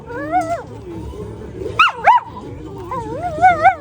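A nearby dog inside an RV lets out a run of whiny, yelping barks and whimpers, rising and falling in pitch, with short pauses between bursts.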